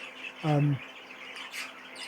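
A young light green male budgerigar gives one short harmonic chirp among a breeding flock, fairly close, followed by faint background twittering.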